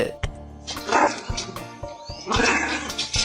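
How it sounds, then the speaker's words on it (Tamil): A dog barks at another dog on the road, a series of sharp close barks and yips scattered irregularly over a few seconds. "இந்த நாய் ரோட்ல போற நாயை பார்த்து குலைச்சி வம்புழுத்திருக்கு"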